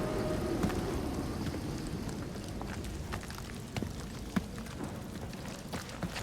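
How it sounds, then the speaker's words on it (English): Steady rain pours in a storm scene from Marvel's Guardians of the Galaxy game, a dense hiss with scattered sharp drops and a faint distant rumble of thunder underneath. "It's just a little rain"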